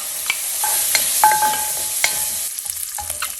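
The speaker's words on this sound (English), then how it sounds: "we are going to cook our bacon to render the fat" Bacon rendering its fat in a hot Staub 4-quart cocotte for beef stew sizzles steadily, with a few sharp utensil taps and scrapes against the pot and no talking.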